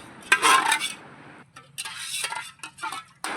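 A hot metal cooking pot slips while being handled beside a wood-fired clay stove during village-style chicken biryani cooking, giving loud close clanks and metallic scrapes in several bursts.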